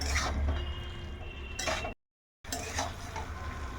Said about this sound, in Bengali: এখন এটাকে এই মশলার সঙ্গে একটু হালকা করে কষিয়ে নেব